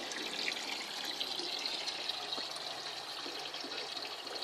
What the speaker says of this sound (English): Draining out the second barrel.